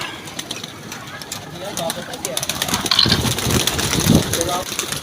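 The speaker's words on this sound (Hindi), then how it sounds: "कबूतर तो काफ़ी डब्बे में किए हैं इन्होंने भी।" Pigeons coo and flutter close by amid a low mechanical hum, with a voice speaking intermittently over the birds.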